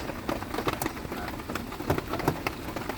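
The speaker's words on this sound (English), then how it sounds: "It had begun to rain throughout the night and continued into the morning." Rain drums on the roof of a parked camper van at a provincial park, a dense, steady patter of close drops with sharper individual hits scattered throughout.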